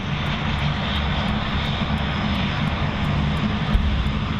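A Hercules aircraft approaches with a loud, continuous droning roar of engine noise that stays heavy and steady throughout, with no voices over it.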